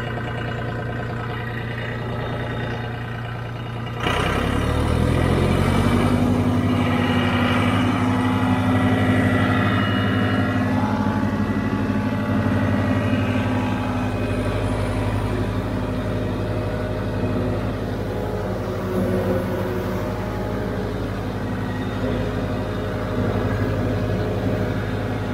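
A John Deere tractor working hay with a Krone implement idles low, then its engine kicks up louder after a few seconds and holds a heavy, steady drone as it pulls in a slow gear, close and alone.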